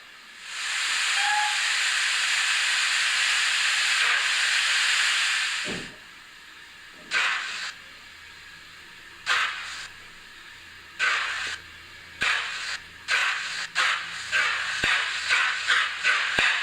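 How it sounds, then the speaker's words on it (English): Model sound decoder on an N gauge Nunney Castle steam locomotive, number 5029: a long loud hiss of steam lasts several seconds, then short chuffs and bursts of hiss follow, gradually quickening into a rhythmic pattern. "I think it's time we run this loco and enjoy its sounds."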